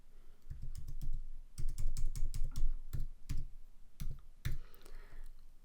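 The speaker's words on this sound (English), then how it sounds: "I can click that and start typing in the barcode number" Rapid bursts of keyboard typing, clustered clicks with short pauses between runs of keystrokes, close and fairly loud with no talking.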